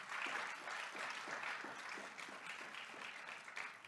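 An audience applauds steadily for Ms. Carol Jones, a civic association officer, during a county budget address; dense, sustained clapping from a large room fills the clip at an even level.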